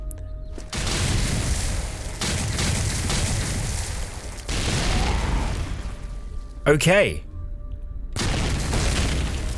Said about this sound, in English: I don't know where the explosions are coming from